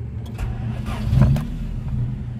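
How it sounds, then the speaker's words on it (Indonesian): A 1990 Honda Civic SH4 engine starting up, a close, steady mid-pitched motor hum that swells briefly as it catches, then settles into a smooth idle. "Sekarang kita nyalakan untuk mesinnya."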